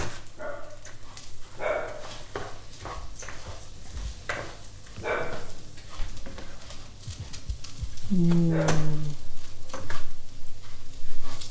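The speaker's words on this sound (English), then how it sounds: "we want to take a little bit of time just to stir that around really thoroughly" Risotto rice stirred through butter and oil with softened onion in a hot pan, with a steady close sizzle and repeated scraping spoon strokes; a brief low tone sounds near the end.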